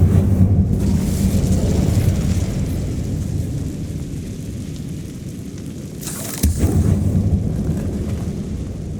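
Incendio fire spell cast in Hogwarts Legacy, a roaring, rumbling burst of flame filling the low end, steady and loud throughout with a brief flaring surge near the end.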